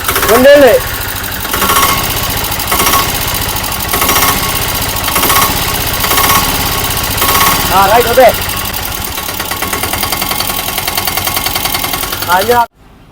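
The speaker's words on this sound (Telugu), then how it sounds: "బండి ఇంజన్ బీటింగ్ అన్నారు కదా ఎలా ఉందనేది" A Mahindra Alfa three-wheeler's diesel engine runs close and loud, a fast steady chugging beat with occasional revving surges, before cutting off abruptly at the end; a voice is heard briefly over it.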